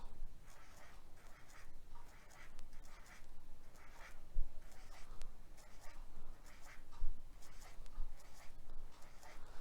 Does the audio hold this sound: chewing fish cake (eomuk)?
no